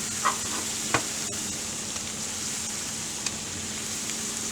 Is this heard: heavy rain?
no